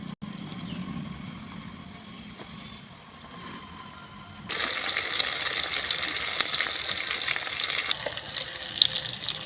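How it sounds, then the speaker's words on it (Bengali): Pointed gourd pieces go into hot oil in a kadai over a stove, and a loud steady hiss and sputter of frying starts halfway through, replacing a quieter low background. No one speaks. "তেল গরম হয়ে গেছে, তেলের মধ্যে পটলগুলো দিয়ে দিচ্ছি।"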